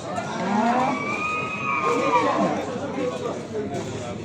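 A calf at a livestock market in Beylagan moos in one long drawn-out call, fairly close, amid crowd chatter and someone talking nearby.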